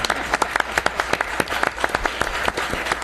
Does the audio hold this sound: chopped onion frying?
no